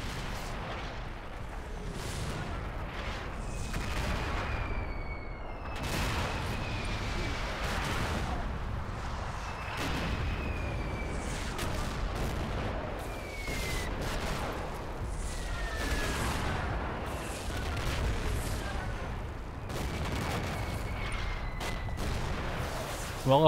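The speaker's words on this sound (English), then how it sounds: "I just want to see this artillery. Oh, here we go. Oh, that's on target." Artillery barrage in Combat Mission Shock Force, a long run of repeated distant explosions and gunfire thumps with faint whistling incoming shells over a steady rumble, someone talking now and then over it.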